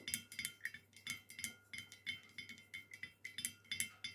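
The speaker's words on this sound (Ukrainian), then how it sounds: "Зараз я візьму палочку, добре перемішаю, почекаю, щоб добре це все мені розчинилось" A stick stirs a fertilizer solution for watering orchids in a container, giving a steady run of light clinks and taps against the sides, repeating about every third of a second, close and fairly quiet with no talk.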